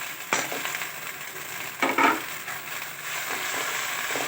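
Vallarai greens and green chilies sautéing in a pan give a continuous close frying hiss, broken by a few louder stirring scrapes, with no talking.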